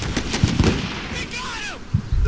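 Missile launches and gunfire in the war video game Combat Mission: Shock Force, with sharp repeated shot cracks, a whistling streak of a missile and a few dull blasts in quick succession.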